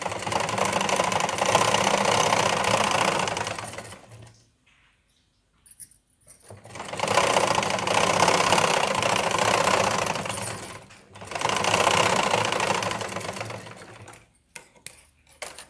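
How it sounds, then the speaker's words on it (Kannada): Sewing machine stitching a blouse, running in three sustained bursts of rapid, steady whirring separated by short quiet pauses, close and loud with no speech. "ಆಮೇಲೆ ಇದ್ರ ಮೇಲ್ಗಡೆ ಒಂದು ಹೊಲಿಗೆ."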